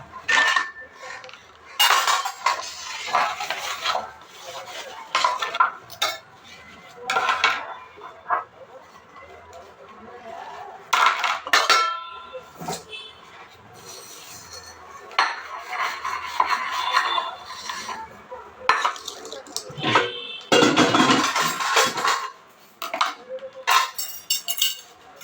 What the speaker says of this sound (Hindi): फिर उसके बाद मुझे बर्तन धोना था।